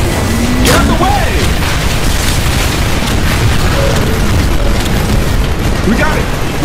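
Heavy booms and rumbling blasts as an enemy dropship is destroyed in a Titanfall multiplayer match, loud and sustained, with voices talking over the din.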